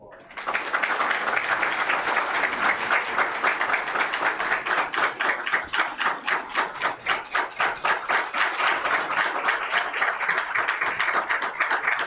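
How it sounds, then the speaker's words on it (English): Sustained applause fills a town council meeting room, a dense, steady clapping from the gathered attendees that starts abruptly and holds at an even, fairly loud level throughout, with individual claps briefly standing out mid-way. "let's give him another round of applause"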